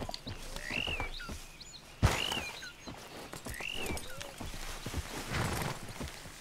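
Horses in the Red Dead Redemption 2 video game clop their hooves in an uneven patter, with a sharp knock near the middle and a couple of high whinnies over a muffled background.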